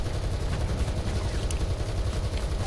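A tank's machine gun, stuck firing in War Thunder, rattles in a continuous fast stream, dense and steady throughout, with heavy low rumble underneath.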